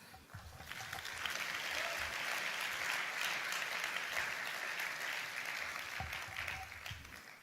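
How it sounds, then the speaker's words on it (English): Conference audience applauding at a closing plenary of the Global Landscapes Forum in Bonn, a steady, full round of clapping that swells and then tapers off, fairly quiet. "you should give yourself a round of applause"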